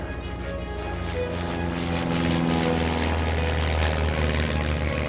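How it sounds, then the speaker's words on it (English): A propeller-driven seeding airplane approaches for loading, its engine droning steadily and growing slightly louder over several seconds, a continuous rumbling hum with no talk. "The airplane comes in, we pull up, we load them with product."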